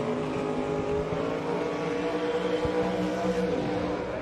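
Race car engine idling and rumbling steadily nearby at the US Street Nationals drag race, a continuous low mechanical drone with no voices over it.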